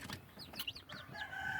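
Native kampung chicks peep in short, high, rising and falling chirps, several overlapping close by, followed by a thin sustained tone, with no voices.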